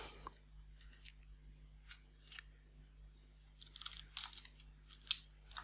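A computer mouse gives a few light, close clicks in scattered short bursts over a steady electrical hum in a quiet room.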